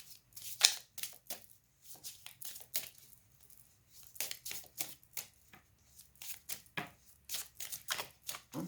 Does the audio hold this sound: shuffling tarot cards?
yes